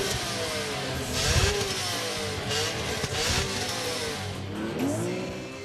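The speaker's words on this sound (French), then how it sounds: "Outre le bruit fantastique de cette fabuleuse mécanique" A BMW M3's 3.2-litre inline-six race-bred engine revs hard, rising and falling through several sharp climbs to high rpm with a rasping, loud tone close by, heard alone.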